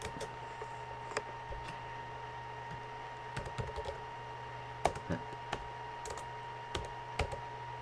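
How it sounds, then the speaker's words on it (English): Scattered keystrokes on a computer keyboard tap out a terminal command, quiet and close, with irregular clicks over a steady electronic hum and no talking. "type in nmap"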